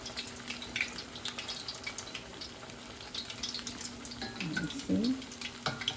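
Hot water cornbread frying in a pan, a soft continuous sizzle with faint crackles, while a person speaks briefly nearby.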